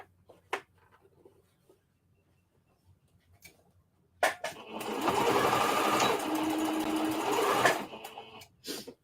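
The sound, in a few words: sewing machine stitching jeans into a skirt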